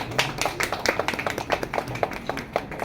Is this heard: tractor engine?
no